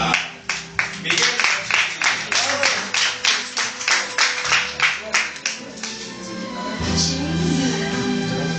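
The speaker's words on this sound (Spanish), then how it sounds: "Aplauso a Miguel." Applause for Miguel at a small gathering: a run of rhythmic hand claps from a group, fairly close and steady, fading into music after several seconds.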